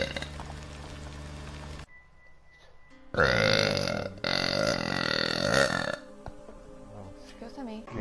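Repeated loud burps from a woman gamer, coming in long, throaty bursts, with talk before and between them.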